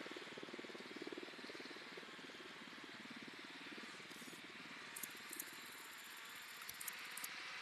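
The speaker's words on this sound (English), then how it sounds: "drone is airborne" A drone flying in Ghost Recon Wildlands gives off a faint, steady rotor hum with a low rumble underneath, broken by a few light clicks near the end.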